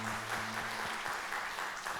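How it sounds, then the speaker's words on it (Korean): Church congregation clapping together during a Friday prayer service, brief and fairly faint, steady hand claps spread through the room, with a low tonal hum running underneath. "우리 주님께 영광의 박수 올려드리겠습니다."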